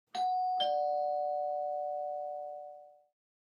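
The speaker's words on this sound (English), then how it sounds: "Just then the doorbell rings." A two-tone ding-dong doorbell chime rings once, clear and close, its second note ringing out and fading over a few seconds.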